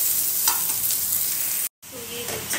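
Okra (bhindi) fries loudly in a pan as it is stirred, a dense close hiss with scraping stirs, broken by a brief moment of silence before the sizzle resumes.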